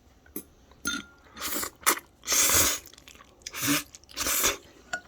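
A toddler eats jjajang ramen noodles, with several bursts of chewing, slurping and crunchy mouth noises close by, separated by short pauses.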